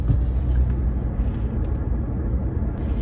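A car on the road to job sites in West Nashville, with a steady loud low rumble of engine and road noise inside the vehicle throughout, and no voices.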